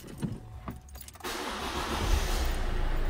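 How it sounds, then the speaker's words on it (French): A 2004 Citroën C3 1.4 HDi diesel is started in a workshop after timing belt work: a few faint clicks, then the engine catches and settles into a loud, steady diesel clatter that keeps building slightly. "Donc là, on fait une mise en route."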